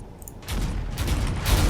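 A rust sprayer weapon firing in modded Space Engineers, a building rush of rumbling blasts that grows louder over a quieter start.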